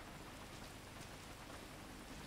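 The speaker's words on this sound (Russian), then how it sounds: "Дождь без облаков." Dense, even rainfall in the video game Grand Theft Auto V patters continuously, a soft steady hiss of drops with no voices or other sounds.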